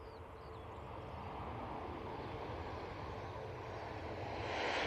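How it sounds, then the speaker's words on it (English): A Ryanair airliner arriving at Manchester Airport gives a broad, steady jet roar that swells louder toward the end as it nears, with no talk over it. "Ryanair inbound."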